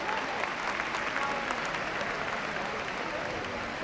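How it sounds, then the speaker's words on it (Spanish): Audience applauding at the Santa Cruz de Tenerife Carnival Queen election gala, a loud, even roar of clapping from a large crowd that holds steady throughout, with a faint murmur of voices beneath. "El aplauso más fuerte para despedirla y para despedir este primer bloque de candidatas."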